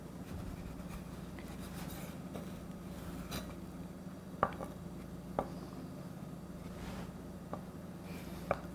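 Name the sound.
knife cutting floured dough into strips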